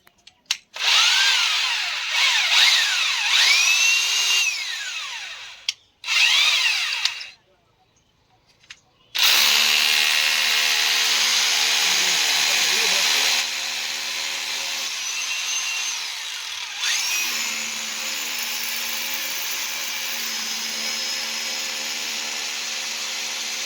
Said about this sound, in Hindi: निकालने के बाद दोबारा से हमको ड्रिल करना पड़ जा रहा है इस जगह पे